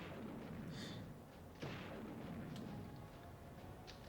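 A bazooka blast destroying a tank in the Army Men: Sarge's Heroes video game, one heavy booming hit over a dense, steady rumble of game noise.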